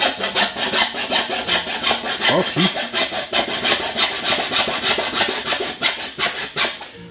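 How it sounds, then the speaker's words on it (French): A small hand hacksaw meant for metal cuts through wood parquet in quick, steady back-and-forth strokes, close and rasping, with a brief spoken interjection. "là j'ai pris une petite scie à main"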